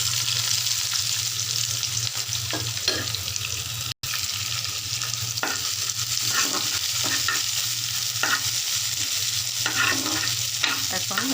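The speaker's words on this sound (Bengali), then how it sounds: "একটু ফ্রাই করে নেব যাতে কাঁচা গন্ধটা না থাকে" Garlic, onion and green chili frying in a pan with cinnamon, cardamom and bay leaf, a steady sizzle with occasional stirring scrapes and clinks.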